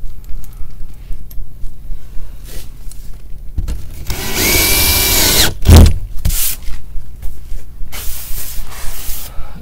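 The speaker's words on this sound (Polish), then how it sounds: "Zostało parę wkrętów do przykręcenia." A power screwdriver drives screws into drywall boards on an attic chimney enclosure, a loud whirring burst of about a second and a half followed by a brief second spin and a few knocks, with quiet handling sounds around it.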